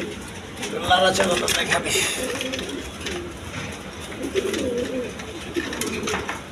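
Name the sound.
pigeons cooing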